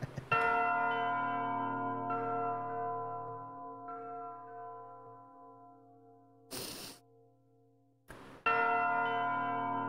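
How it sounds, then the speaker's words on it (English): Large church bells ring in the video game Valkyrie Profile with long sustained, ringing tones that slowly fade, broken twice by short bursts of noise before a fresh strike. "Seems we started at a church with the bells ringing."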